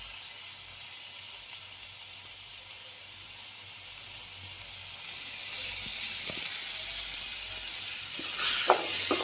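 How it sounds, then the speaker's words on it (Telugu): Tomatoes frying in a pan for tamarind chutney give a steady, bright sizzling hiss throughout, growing slightly louder toward the end with a few faint clinks. "టమాటా అయితే బాగా వేగుతుంది."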